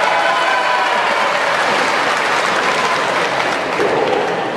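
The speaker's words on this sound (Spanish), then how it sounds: "Que aplaudan los que no quieren que vuelva a gobernar." A crowd at a comedic political performance bursts into loud, continuous applause, a dense roar of clapping hands that holds steady from start to finish with no speech over it.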